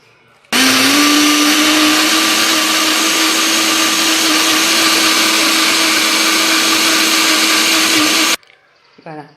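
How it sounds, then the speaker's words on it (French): An electric mixer whips chocolate génoise batter with vanilla, starting abruptly in a loud, steady motor whine that rises slightly in pitch and holds for about eight seconds before cutting off. "Et là, on va mixer le tout."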